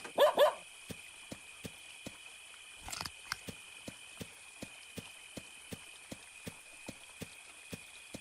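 A dog in a horror video game gives a couple of loud, close barks at the start, followed by a steady series of regular soft clicking steps over a faint background tone.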